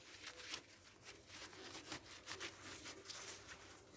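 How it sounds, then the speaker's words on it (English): A towel steadily rubs over an outdoor Christmas light decoration, giving a faint, continuous scratchy back-and-forth swishing with regular strokes and no talk. "you take it and you rub this thing with it"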